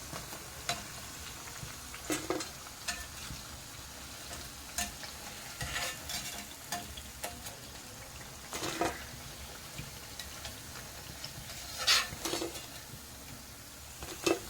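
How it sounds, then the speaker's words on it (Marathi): Motichur for modak frying in hot oil, a soft steady sizzle with intermittent stirring clinks and scrapes spread across the stretch, no voices. "याच पद्धतीने आपण सर्व असं तेलामध्ये फ्राय करून घेऊया।"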